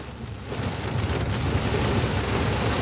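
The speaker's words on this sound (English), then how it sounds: "Hopefully the rain will calm down soon." Heavy rain from a thunderstorm pours down steadily, a dense, loud hiss of drops beating on surfaces that swells after the first half second and holds at full strength.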